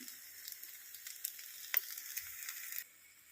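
Chutney frying in a pan for a dosa meal gives a steady, fairly quiet sizzle with faint crackles and a few sharper pops. It cuts to a softer hiss near the end, with no voices.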